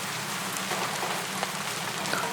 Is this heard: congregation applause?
no